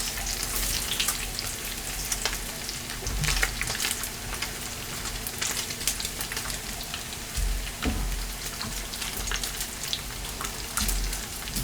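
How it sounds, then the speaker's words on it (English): Pancake batter frying in a copper skillet, a steady close hiss and crackle of sizzling with a few faint clinks and low thumps, and no talking. "But when I'm frying my pancakes, I use my copper skillet."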